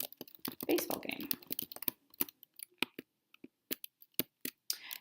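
Quiet typing on a computer keyboard, with a run of quick clustered keystrokes followed by slower, separate taps and short pauses, with a voice briefly audible at the start.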